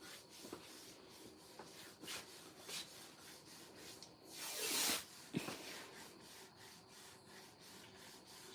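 Wood being sanded by hand during a carpentry repair, rhythmic close rubbing strokes repeating steadily with one longer, louder stroke midway, quiet and without talk.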